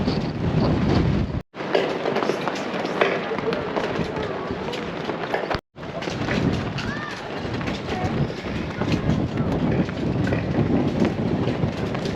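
Strong wind buffeting a car driving through Utah, a loud, steady, broadband roar that fills the whole stretch, broken by two brief dropouts.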